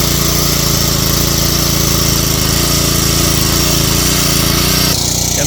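A small farm rotary tiller engine runs steadily at high revs in a field of clods, with a buzzing, droning tone, continuous and fairly loud throughout, without any talking.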